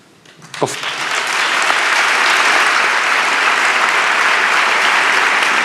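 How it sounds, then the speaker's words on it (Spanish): Audience applause in Seville's Teatro de la Maestranza during a Holy Week proclamation, rising quickly from a hush into dense, sustained clapping that fills the hall at steady loudness. "los aplausos en el Teatro de Maestranza"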